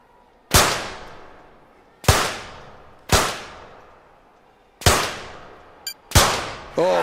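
Five sharp pistol shots in the men's 25 metre rapid fire event of the London 2012 Olympic video game, each a loud crack with a decaying tail, spaced about a second or more apart, with a brief click between the last two.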